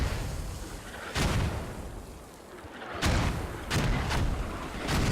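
Mortar rounds fire and explode in a competitive online shooter match between Army of Nine and Fight on the F*cking Objective, a rapid series of heavy booming blasts over constant battlefield rumble, with several clustered impacts.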